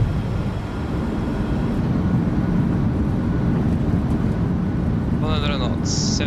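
An airliner's thrust reversers roar during the landing roll in Microsoft Flight Simulator 2024, a loud steady broadband rush of engine noise throughout, with brief cockpit chimes and callouts near the end.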